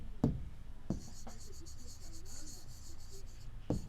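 Pen writing on paper, heard as a faint continuous scratching with a few soft taps, close and quiet behind a low background hum.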